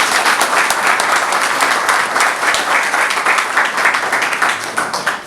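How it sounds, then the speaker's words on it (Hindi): Audience applause at a World Fisheries Day event welcoming a joint director, a dense, loud, continuous burst of many hands clapping close by, holding steady throughout. "हम चाहते हैं कि तालियों से आप"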